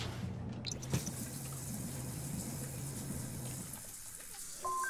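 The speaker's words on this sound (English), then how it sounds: "Take a brisk shower." Shower running in The Sims 4 as a character washes, a steady soft hiss of spraying water heard fairly close, continuous for several seconds before fading, with a faint game tone at the end.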